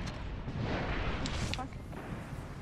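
A grenade blast in the Titanfall video game, a loud rumbling boom that fills the clip, with gunfire-like bursts over it and a voice speaking during the action.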